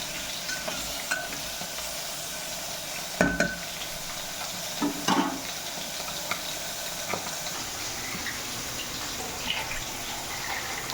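Vegetables fry lightly in a pan for a toddler's lunch, a steady close sizzle broken by a few louder scraping stirs near the middle.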